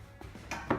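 A knife cuts cheese and Vegemite scroll dough on a chopping board, giving three faint, soft taps spread across a brief, quiet moment.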